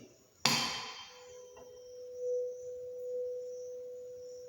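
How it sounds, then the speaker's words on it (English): A 512 Hz tuning fork is struck once, giving a sharp close tap followed by a clear, steady pure tone that rings on and slowly fades, with no talk. "So the tuning fork I have picked is 512 hertz. So I'll sound that tuning fork like this."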